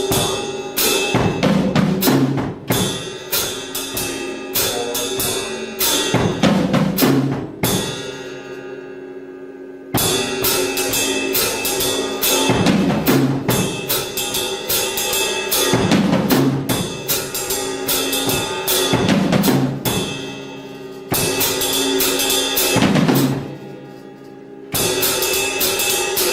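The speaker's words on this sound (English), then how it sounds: "So you'll hear that 2 bass drums in a row at the end of the fill-in." Drum set playing a steady rhythm that repeatedly closes with a fill ending in two bass drum strokes in a row, loud and continuous with cymbal wash, several cycles, no voices.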